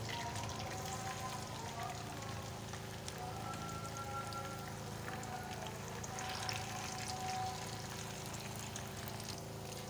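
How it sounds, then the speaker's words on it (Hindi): Chicken potato bites frying in oil over a medium-to-low flame, giving a steady, soft, rain-like sizzle and crackle that stays even from start to finish. "ये बाकी भी जो से हमारे चिकन बाइट्स हैं इसको हम फ्राई कर लेते हैं।"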